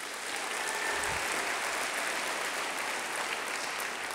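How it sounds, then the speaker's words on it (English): Audience at a State of the City event applauding steadily, a dense, even wash of clapping that holds at full strength throughout with no pauses. "Give them a big round of applause."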